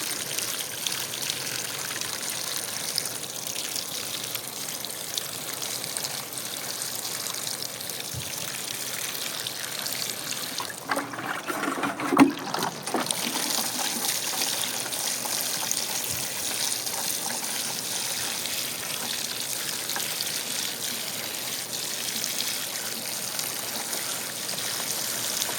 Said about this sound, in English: I'm also going to water this one in.